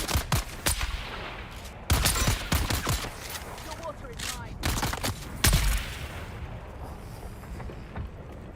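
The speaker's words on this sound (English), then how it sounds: "I don't like the fact that you're shooting at me." Bursts of rapid video game gunfire in a desert setting come in several loud volleys with gaps between them, mixed with scattered single shots.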